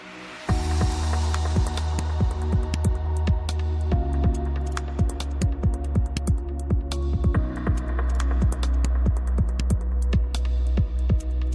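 A Kukai Alpha Pro key cutting machine cuts a SAG tubular key blank with a 5.0 mm cutter. It gives a steady motor hum under repeated sharp metallic ticks and clicks, close and continuous, with no talking.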